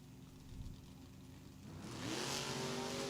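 A pair of 1957 Chevy drag race cars rev at the start line, a distant engine drone climbing into a louder, rising roar toward the end.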